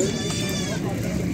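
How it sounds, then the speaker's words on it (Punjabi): Goats at a livestock market in Faisalabad bleat close by in a wavering cry, heard under someone talking. "ਕਮਾਲ ਦੀਆਂ ਬੱਕਰੀਆਂ ਤਿਆਰ ਹੀ"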